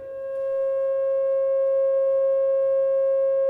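A steady pure sine tone at 540 Hz, representing the pentagon, fades in over the first half second and then holds at constant loudness with no other sound.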